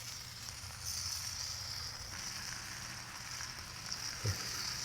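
Butterflied shrimp sizzle steadily in a hot frying pan for a Provençal dish, a continuous bright hiss with a brief soft clunk near the end and no talking.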